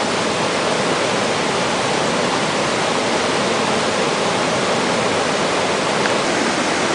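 A pot of water at a rolling boil over a campfire gives a loud, steady, dense hiss and bubbling that does not let up from start to finish.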